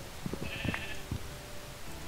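A few quick, faint sheep bleats from the Minecraft video game, short nasal cries repeated in a small cluster and then fading out against a quiet background.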